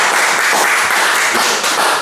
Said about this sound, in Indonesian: Tepuk tangan dong buat mas